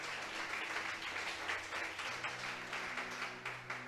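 A church congregation at a morning service claps loudly and steadily for about four seconds, a dense, sustained wash of many hands with a faint low hum underneath.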